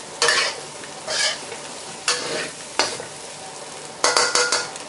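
Instant noodles and tomato are stir-fried over rising heat, with loud, rhythmic scraping and tossing strokes about once a second over a continuous sizzle, and a light clatter of cookware.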